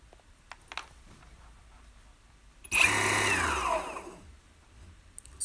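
An electric skateboard hub motor driven by a VESC speed controller whirs up to a loud whine, spins for about a second, then winds down with a falling pitch, amid quiet handling clicks.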